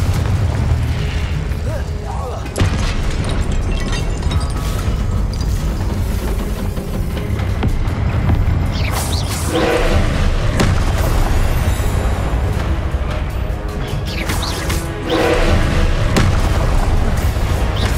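In the Hogwarts Legacy video game, Confringo explosion spells and other spellcasting combat produce loud, continuous booming blasts and rumbling bursts, with game music and effects layered throughout.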